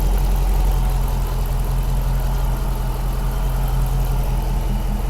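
A Dodge SRT car engine idles steadily and close by, a low continuous hum with a faint whine from the repaired power steering pump, with no talk over it.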